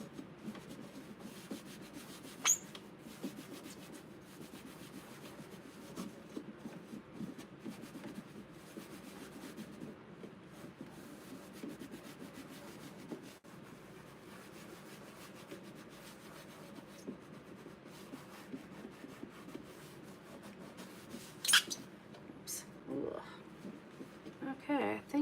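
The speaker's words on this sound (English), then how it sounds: "Burnish all these on." A tool rubs transfers onto a mirror, producing a soft, continuous scraping and rubbing that runs steadily throughout and stays faint and close.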